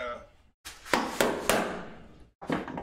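A hammer strikes a holdfast on a woodworking bench, three sharp wooden knocks in a row followed by another hit after a short pause, with quiet speech at the start.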